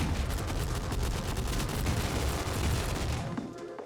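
Gatling guns in the video game Shotgun Cop Man fire a dense, continuous rattle of rapid shots, loud and steady throughout before tapering off at the very end, with no voices over it.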